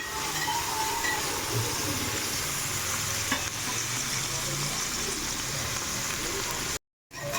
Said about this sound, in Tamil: பச்சை மிளகாய் நல்லா வதங்கட்டும்